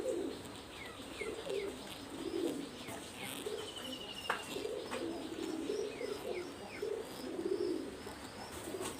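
Pigeons coo softly in low, repeated rolling phrases at moderate distance, mixed with a few faint chirps over a steady background hum.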